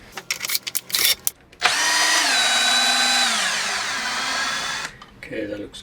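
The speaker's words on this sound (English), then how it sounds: "I got lazy here and used a drill to move the plate along." A power drill spins the lead screw of a CNC linear motion actuator with an SFU1605 ball screw and HGR15 rail guide, a loud steady whine lasting about three seconds between brief bits of talking.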